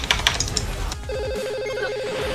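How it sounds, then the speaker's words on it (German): A Steam incoming-call ringtone plays as a repeating warbling electronic trill, loud and steady, following a burst of busy game sounds and voices. "Nee, der ruft mich auf Steam an."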